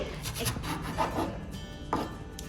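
A knife slices yellow and green capsicum into thin, long strips on a board, giving a few soft, irregular cutting and scraping strokes, close and fairly quiet, with no talking.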